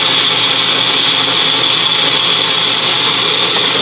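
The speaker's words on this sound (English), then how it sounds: "So now I have it on the Magic Bullet, or you can use whatever blender." A steady, loud Magic Bullet blender whirs continuously at high speed blending a coconut flan mixture, a constant motor drone with no pauses or talking.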